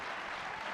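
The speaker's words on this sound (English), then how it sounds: "Let's give another round of applause to our winners" An audience at a tech summit keynote claps for award winners, a brief, steady wash of applause at moderate distance, dense and even with no voices standing out.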